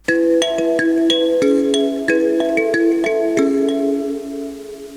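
A mbira plays a fuller interlocking pattern with both hands, low and high plucked notes overlapping in a steady rhythmic loop, close and resonant, without talking.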